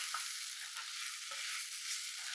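Onions and shallots sizzle and fry in a pan in a home kitchen while burgers are made, a faint steady hiss with a few soft stirring touches.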